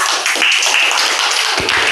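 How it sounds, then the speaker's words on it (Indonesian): Students in a classroom clap for a classmate: a short, loud, dense burst of many hands clapping close by, continuous for about two seconds. "kita kasih tepuk tangan untuk Oka"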